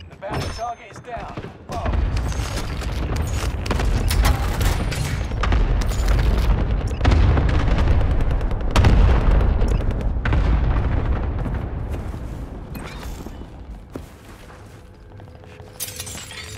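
Rapid chain of booming airstrike blasts in Call of Duty Warzone Plunder mode, a dense, loud rumbling barrage that swells and rolls on for many seconds before tapering off, with game voice callouts mixed in.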